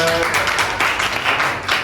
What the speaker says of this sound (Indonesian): Nah, coba kasih tepuk tangan ya.